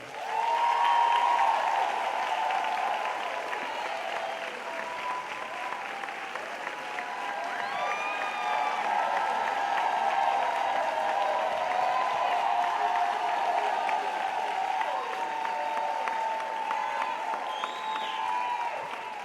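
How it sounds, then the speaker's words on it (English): An audience at a talk event applauds and cheers for a guest, producing sustained crowd clapping with whoops and shouts that holds steady for the whole stretch. "Ladies and gentlemen, please clap your hands for Miss Mara Brock Akil."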